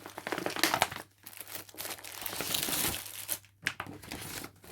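Cross-stitch kit packaging being opened, a steady rustle and crinkle of plastic and paper close up, rising and falling in bursts with brief pauses, no talking.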